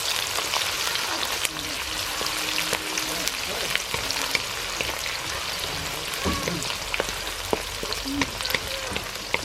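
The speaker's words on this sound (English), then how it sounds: "first of all we'll add this onion. For a minute you fry it." Onion frying in heated oil for a snail and potato dish gives a steady, crackling sizzle throughout, close and moderately loud, with occasional sharper pops and stirring sounds.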